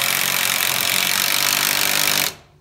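Power driver sinking a large 4-inch screw into old barn wood while a sinking barn is raised, a loud continuous grinding whir for about two seconds that stops abruptly.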